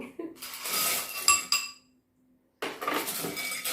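Baby cockles clatter into a bowl while preparing a spicy Thai fermented fish salad with cockles and sausage, giving bright shelly clinks in two bursts separated by a short silence, close and fairly light.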